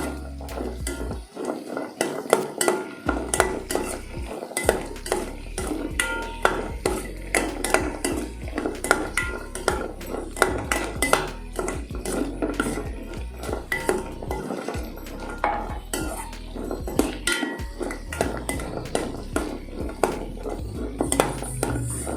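Nuts roasting in a pan are stirred continuously, giving a long stretch of close, rhythmic spoon-on-pan scraping and clinking with brief pauses between strokes.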